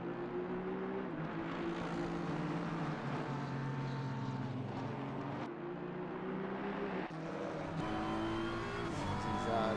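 Race car engines droning steadily in an Xbox racing game at Spa, a continuous loud whine with gear shifts and shifting pitch as the cars push for traction.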